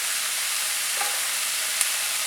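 Vegetables sautéing in a pan give off a loud, even sizzle and hiss close by, with one brief stirring clink partway through.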